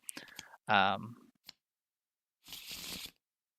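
A deck of cards gets shuffled in a short riffling burst near the end, crisp and close, after a few clicks and a brief louder rustle during a tabletop Arkham Horror card game.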